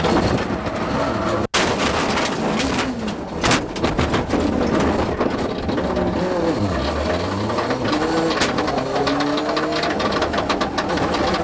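A Ford Escort Cosworth rally car engine snarls and revs with harsh mechanical banging and clattering while braking, loud and close, pitch sweeping up and down.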